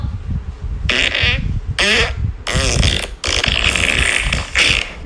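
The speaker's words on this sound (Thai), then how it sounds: "อ๋อเสียงตด" Several loud, buzzing fart sounds in a row, each a second or so long with wobbling pitch, close up, with brief pauses between them.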